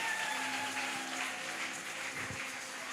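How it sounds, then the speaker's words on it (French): A church congregation claps through a worship service, steady dense applause close and continuous for the whole span with no clear voices over it. "Acclamez pour l'Éternel."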